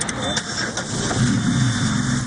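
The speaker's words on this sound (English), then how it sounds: "A mother putting another mile on her car to keep her daughter healthy." A car on the road, heard as a steady engine hum and tyre rumble that swells slightly midway, with a voice talking over it throughout.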